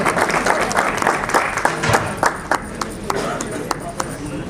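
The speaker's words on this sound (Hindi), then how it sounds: "जोरदार तालियों से भैया" A crowd applauds at a retirement party, with dense, steady clapping from many hands close by and voices talking underneath.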